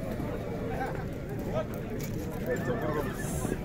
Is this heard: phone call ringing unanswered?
no